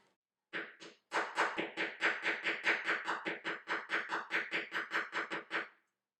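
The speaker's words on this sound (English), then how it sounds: "flatten it a little bit more by using the rounded end" A rapid, steady series of about twenty light hammer taps flattening silver wire, close and evenly paced, after two initial strikes.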